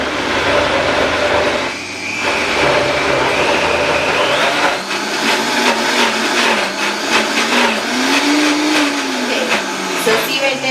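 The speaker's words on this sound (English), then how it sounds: "The blender is getting stuck on us" A blender whirs loudly and steadily while blending a thick vegan smoothie, its motor pitch shifting and rising as the mix bogs down and frees up, running continuously close by.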